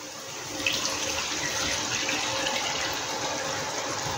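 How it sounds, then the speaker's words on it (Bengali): Coconut milk pours into a Bengali lobster malai curry in a steady, continuous liquid rush that starts sharply and keeps flowing at an even level, close by and with no talking. "এবার নারকেলের দুধটা দেব।"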